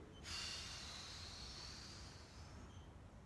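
A long, forceful exhale during an exercise, a breathy hiss that starts abruptly and holds steady for about three seconds before easing off, close and fairly quiet, with no talking.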